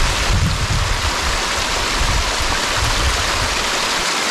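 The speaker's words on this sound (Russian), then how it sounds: "Настоящий горный родник." A mountain spring stream of cold water rushes and splashes close by, a steady, broad hiss of flowing water with no pauses or voices.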